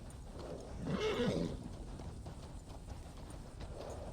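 Horse in Red Dead Redemption 2 neighs in a loud, rising whinny around the middle, with clip-clopping hooves and game ambience running steadily beneath.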